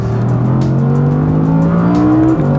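Audi R8 V10 sports car engine revving loud and close, a steady sustained roar whose pitch climbs through gears with a brief dip near the end, no talking.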